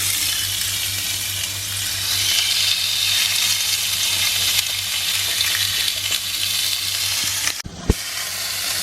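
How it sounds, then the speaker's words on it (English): Steaks sizzling in a hot pan, a loud, dense, continuous hiss close up, broken near the end by a brief knock. "So the pan is now being heated up before adding the steaks."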